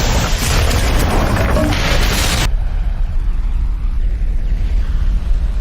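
Bomb explosion in a film, a loud sustained blast roaring for about two and a half seconds before cutting to a low rumbling aftermath.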